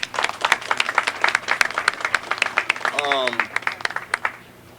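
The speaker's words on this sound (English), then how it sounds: "Give yourself a round of applause for showing up today." A smallish crowd at a joint ribbon cutting for a kitchen business claps in scattered, distinct hand strikes, moderately close. A voice and a brief whoop rise over the clapping midway before it thins out.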